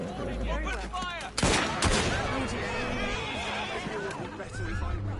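Gunfire in Assassin's Creed Syndicate: a sharp volley of shots rings out amid horses neighing and game characters talking, with busy battle noise running throughout.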